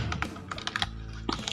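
Brisk typing of an address on a computer keyboard, a close run of crisp keystrokes with a short pause before a final burst of taps, no voices.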